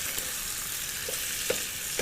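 Streaky bacon fries in dripping in a pan, giving a steady close sizzle with small pops and crackles and no talking.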